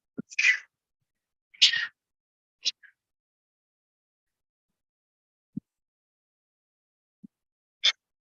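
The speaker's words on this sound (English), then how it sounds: "Just a sneeze." A single person sneezes once, loud and close, in a quiet indoor lecture setting, followed by a few small sniffs and mouth noises, then near silence with faint breaths.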